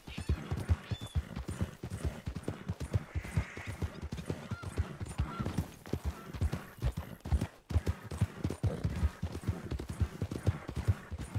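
Horse hooves clip-clop steadily in the Western role-play game RedM, a brisk, even rhythm of close hoofbeats carrying on throughout at moderate loudness.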